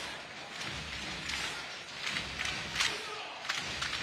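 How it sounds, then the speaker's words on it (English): A basketball arena crowd at a FIBA 3x3 Masters final in Lausanne roars in a steady, dense wash of cheering, with sharper surges and thumps rising out of the din throughout. "This crowd is absolutely electric."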